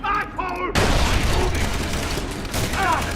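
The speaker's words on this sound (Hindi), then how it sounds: "तो भाई ग्रेनेड फेंका है मैंने सामने की साइड।" A grenade explodes in Far Cry 3 with a sudden loud boom, followed by sustained gunfire and rumbling, with a voice speaking briefly before and after.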